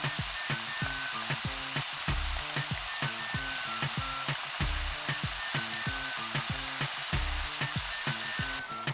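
Goat meat fries in coconut oil in a Dutch pot, a continuous close sizzle punctuated by regular rhythmic scraping or stirring knocks throughout, with no voices.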